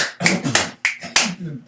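Several sharp finger snaps or claps in an irregular rhythm, close and fairly loud, with no talking over them.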